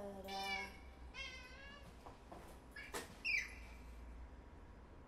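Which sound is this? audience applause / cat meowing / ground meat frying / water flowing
cat meowing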